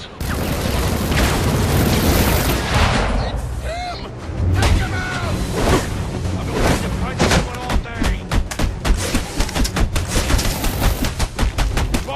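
Gunfire in Batman: Arkham Origins, repeated bursts and booming shots over a dense game soundscape, growing into rapid, closely spaced volleys in the second half, with voices speaking over parts of the action.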